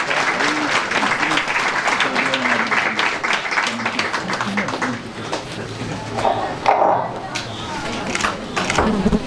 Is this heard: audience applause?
yes